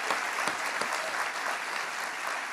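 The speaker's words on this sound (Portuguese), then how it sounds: "vamos dar um aplauso ao nome do Senhor" Dense, steady clapping from a church congregation fills the whole stretch, loud and continuous with no voices standing out.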